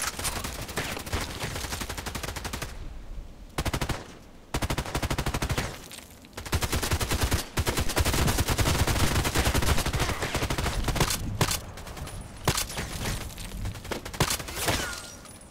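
Rapid volleys of gunfire from an EBR sniper rifle in a shooting video game ring out loud and close, broken by a few brief pauses, with steady game background between bursts.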